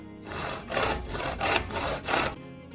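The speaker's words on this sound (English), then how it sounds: "I would also advise using a smaller and slightly less rusty saw than this" A rusty hand saw cuts through wood in four rough, rhythmic back-and-forth strokes, close and fairly loud, then stops.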